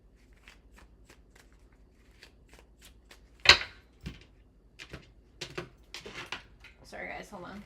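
Tarot cards are shuffled in a rapid series of soft crisp riffles and taps, with one louder snap midway and a brief flutter at the end.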